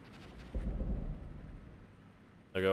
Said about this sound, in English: Other Mi-24s moving out.